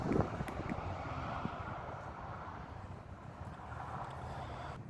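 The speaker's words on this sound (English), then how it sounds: "The wind's starting to pick up a little bit, starting to blow all over me." Wind gusting outdoors into a microphone, a steady broadband rumble and rush that persists without a break, fairly loud and close, with no speech.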